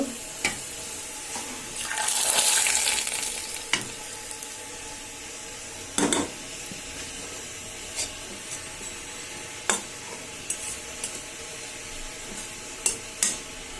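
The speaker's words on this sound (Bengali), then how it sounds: "আমার পেঁয়াজটা লাল হয়ে গেছে আমি এখন পেঁয়াজগুলি ডাইলে দিয়ে দিব" Fried onions in hot oil are tipped into a pot of cooking dal, giving a brief hissing sizzle and splash, followed by scattered clinks and knocks of utensils in a quiet kitchen.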